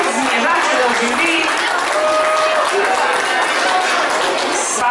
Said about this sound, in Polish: Już są brawa, ale widać was już.